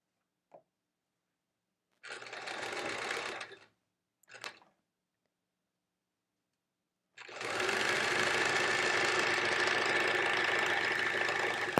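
A home sewing machine does free motion quilting with the foot pedal pressed all the way down. A couple of short starts come first, then a long, loud, fast continuous run that carries on to the end.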